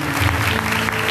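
A congregation at a healing prayer gathering applauds briefly, a dense burst of clapping with a faint hum of voices and instruments underneath.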